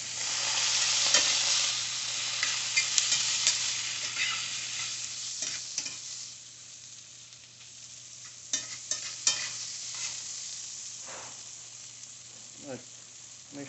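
Home-fry potatoes cook in a pan with a soft, even sizzle, joined by scattered scrapes and clicks of stirring, close but fairly quiet, with no one speaking.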